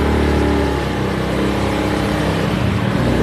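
A Honda Beat scooter engine revs hard while climbing a hill, a loud, continuous buzzing drone close to the rider with slight rises and dips in pitch.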